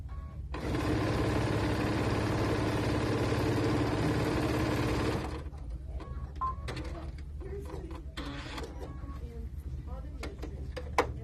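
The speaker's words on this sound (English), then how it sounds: "Now we're just going to sew this last row on here." A sewing machine stitches a quilt row for about five seconds in a steady, loud mechanical hum, then stops, leaving quieter handling clicks and light voices.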